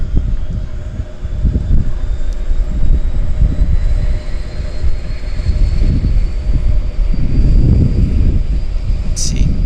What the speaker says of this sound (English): It's still tied up, so I think they're just going to do an engine run.